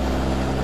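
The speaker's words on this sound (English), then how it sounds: "this truck uses the Detroit diesel sounds" Freightliner Cascadia truck's Detroit diesel engine in American Truck Simulator, a steady low idling rumble held close and even throughout, with no talk over it.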